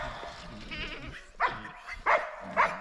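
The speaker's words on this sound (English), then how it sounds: "the goats" Pregnant Nubian does on a farm give a few short, bleating calls, three distinct bursts spaced about half a second apart over a low murmur of background sound.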